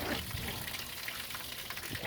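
Water pouring out through the drain plug hole of a boat hull, a faint continuous gushing splash with no break over the whole stretch.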